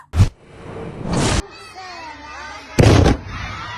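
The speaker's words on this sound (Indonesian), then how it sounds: "korban luka bakar akibat balon gas meledak" Sharp, loud bursts like balloons popping, three of them in under four seconds, the last followed by a fading rush of noise, from gas balloons exploding.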